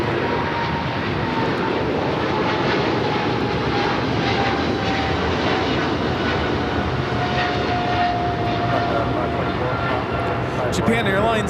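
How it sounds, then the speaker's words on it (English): A Japan Airlines Boeing 777-300ER roars on takeoff from LAX, its jet engines a broad, steady rumble held throughout, with a voice talking over it. "Japan Airlines Flight 15 taking off to Tokyo Haneda on the 777-300ER."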